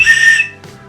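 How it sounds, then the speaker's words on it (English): Single loud, shrill blast from an emergency hiking whistle, held for about half a second and then cut off, with no talking. "A whistle,"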